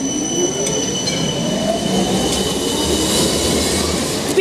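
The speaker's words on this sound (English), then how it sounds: "whilst an East Coburg B-Class tram arrives" A Melbourne B-Class tram rumbles into Flinders Street Station loudly and continuously, its wheels squealing with a thin, drawn-out metallic whine against the rails.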